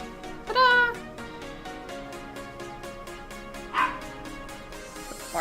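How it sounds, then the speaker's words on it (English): A dog barks twice, once early and once a few seconds later, each a short, sharp yelp heard over steady background music. "Barking dog."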